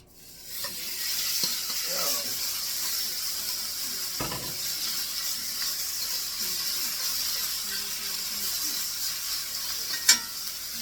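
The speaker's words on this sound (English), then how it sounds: "let's put our beef and start cooking our beef. And this is gonna cook up quick." Beef for fajitas frying in a hot pan, a steady bright sizzle that runs the whole time, with occasional soft stirring knocks and one sharp clink near the end, and no voices.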